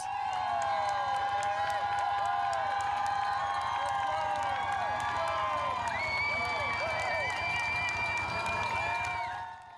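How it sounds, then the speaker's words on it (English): A large roadside crowd outside a bike shop cheers, whoops and claps for cyclists finishing a 400-kilometre charity ride, a steady, distant-sounding din with rising shouts throughout. "A large crowd gathers at South Shore Cycle, lining Scott Road, enthusiastically expressing their support."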